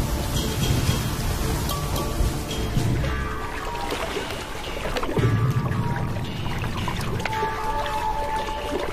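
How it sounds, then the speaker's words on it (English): Heavy rain pours steadily onto dry African ground in the first real downpour of the year, a loud continuous hiss with distant rumbles of thunder rolling underneath. "First real rains for a year."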